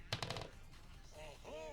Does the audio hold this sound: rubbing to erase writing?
no